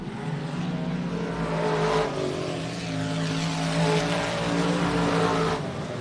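Dirt track race cars roar around the South Texas Race Ranch oval at the Jerry Whiteaker Memorial, engines droning loudly and steadily with surges of revving as the pack passes.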